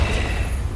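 A Confringo spell blast in the Hogwarts Legacy video game, a loud, dense explosive boom that fills the whole short moment.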